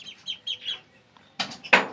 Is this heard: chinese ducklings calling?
yes